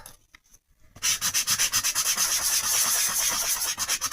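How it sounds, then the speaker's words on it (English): A small nail-buffer style sanding block rubs back and forth over raised score lines on card, a close, loud scratchy rasping in quick regular strokes after a brief quiet start. "you can sand over it and you'll get these white lines"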